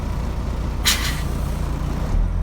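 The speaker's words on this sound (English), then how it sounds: "I'm going to brake one more time" A truck's air brake is applied during a pressure check, giving one loud hissing burst of released air that lasts about a third of a second over a steady idling engine rumble, close by with no talk.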